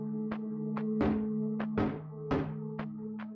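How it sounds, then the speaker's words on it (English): Doors in the game The Fridge is Red give off a knocking sound when touched: a sequence of about eight hollow, woody knocks at an uneven rhythm, some harder than others, close and clear over a steady low hum. "I love how when you touch doors, they just make a noise, like a knocking sound"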